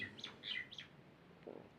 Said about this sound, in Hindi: अब तो ये चिड़िया, इसको बात कर लेने दो।